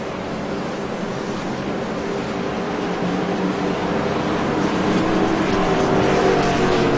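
Race cars circling a track behind a pace car under caution, a steady engine drone with broad wind-like roar that swells slightly toward the end, no talk over it.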